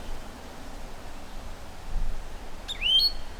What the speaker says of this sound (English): One of, if not the most colourful and radiant bird in Australia, the aptly named rainbow Lorikeet